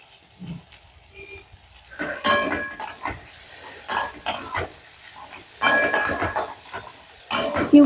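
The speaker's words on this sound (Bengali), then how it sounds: "এবার আমি এখানে অ্যাড করবো আমার কিউব করে কেটে রাখা পেঁয়াজগুলো।" Cubed onions tumble into hot oil and frying spices in a pan and get stirred, with scraping spoon strokes and soft sizzling in irregular close bursts, no talking.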